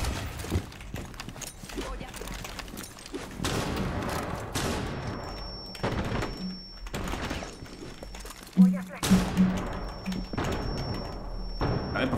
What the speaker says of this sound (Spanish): voy a pegar con la escopeta